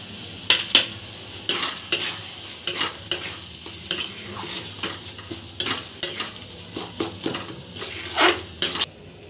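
Tomatoes fry in a pan of cabbage and fish head dal, with repeated close stirring scrapes and clatters of a utensil against the pan over a soft sizzle, irregular strokes throughout and no talking.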